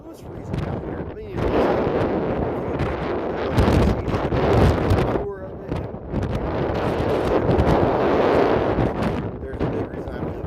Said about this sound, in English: the wind is blowing like insane